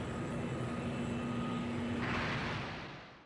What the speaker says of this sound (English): A jet core booster has just been spotted taking off from the runway.